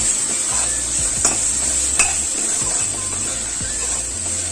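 Tomatoes sizzle and fry in roasted masala in a pan as a home-style dhaba paneer curry is cooked, with a steady close hiss and occasional stirring scrapes throughout, no talking.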